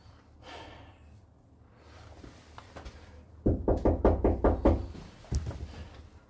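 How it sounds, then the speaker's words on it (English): A house door is knocked on repeatedly at a stranded wild camp near Loughrigg Fell in high winds: a quick run of about seven loud, close raps, then one more sharp knock, following quiet breathing and wind. "Now I'm gonna knock, see if Mary's awake"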